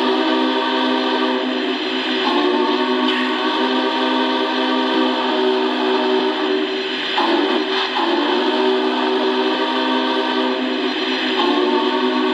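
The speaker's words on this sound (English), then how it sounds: "let's zoom in on that whistle steam smoke effect." A Lionel O scale Union Pacific Big Boy model steam locomotive whistle holds one steady, continuous multi-tone blast, loud and close, barely wavering.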